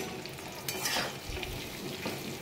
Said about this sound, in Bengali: এটা একটা কাঁচা লঙ্কা এখন দিয়েছিলাম, এটা ভাজা ভাজা হয়ে গেছে।